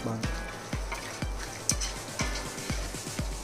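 A spoon scrapes rhythmically around a pan of sizzling biryani masala, roughly twice a second, each stroke a soft knock over a steady low frying hiss, close and fairly quiet.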